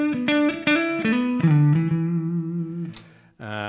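Gibson SG electric guitar on its front pickup, played clean with no pedal: a run of picked single notes with sustained tones, ending in a held note, a short break, then a fresh strum, loud and close.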